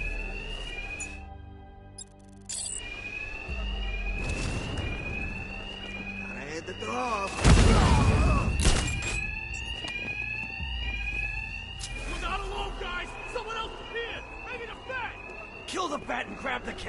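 Continuous electronic alarm ringing in Batman Arkham Knight, a loud repeating warble that carries through the whole stretch under game dialogue, with a heavy impact midway.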